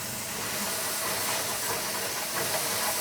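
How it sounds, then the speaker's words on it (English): A heavy industrial press squeezes rubber nuggets into balls in a mould, giving a continuous loud hissing, chugging mechanical rush like a steam engine, steady and close throughout with no talking. "Inside the machine, the nuggets get pressed together by a heavy weight."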